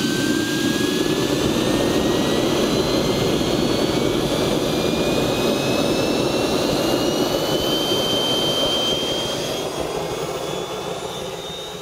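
A JS3 Rapture glider's self-launch jet engine runs up toward full power, a loud steady turbine roar with a rising high whine, easing slightly in the final seconds with no talk.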